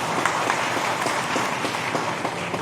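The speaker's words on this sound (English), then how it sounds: "Only the women are clapping," Audience members at a Trinamool Congress party delegates' meeting in Manjeri clap in a steady, dense ripple of many hands, continuous and fairly close, with no voices over it.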